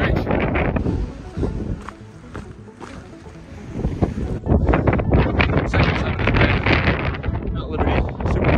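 Strong wind whipping across a cloud-covered mountain summit ridge in the White Mountains, roaring and buffeting the microphone in loud gusts that build in the second half, with a hiker talking close by.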